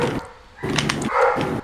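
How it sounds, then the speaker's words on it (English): A few dogs bark and yip indoors in short bursts, fairly close and loud, with brief pauses between barks. "My dogs are barking right now."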